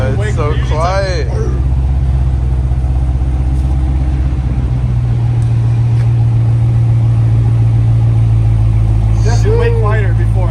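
A Dodge Hellcat Redeye with newly installed valved mufflers idles with a low, steady, fairly subdued exhaust rumble, while people talk over it.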